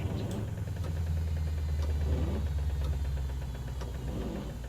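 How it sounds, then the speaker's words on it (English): A Caterpillar 3408 engine in a Peterbilt 359 truck idles steadily with a low rumble and a faint high-pitched whine riding on top, constant throughout with no talking. "You hear that high-pitched whine?"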